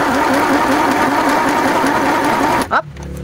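A new domestic sewing machine runs at its lowest speed setting, humming and clattering with a steady, fast needle rhythm close by, then stopping abruptly near the end as a voice speaks.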